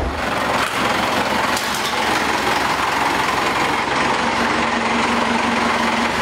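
A 3.9 Cummins 4BT diesel with a VE fuel pump idles steadily in a loud, continuous rumble that stays close and constant, with no talking over it.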